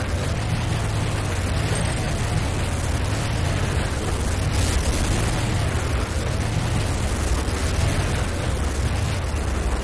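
A structure blows up in the video game Renegade, its explosion collapsing into a dense, sustained roar of rumbling debris that stays loud and close for nearly ten seconds without a break.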